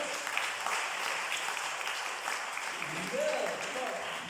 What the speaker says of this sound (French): Là, qui sont là, à Budapest, il y a des applaudissements.